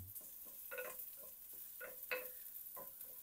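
Crushed garlic and ginger sautéing in a pan, a faint low sizzle punctuated by several distinct taps and scrapes of a spatula stirring the pan, quiet and close.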